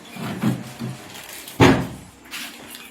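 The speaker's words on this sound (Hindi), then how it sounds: "अरे जोरे दरवाजा बंद करो, दरवाजा बंद करो।" A door is shut hard indoors: a few soft knocks and shuffles lead up to one loud thudding slam, with faint rattling afterward.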